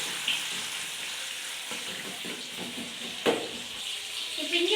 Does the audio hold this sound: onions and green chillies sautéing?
yes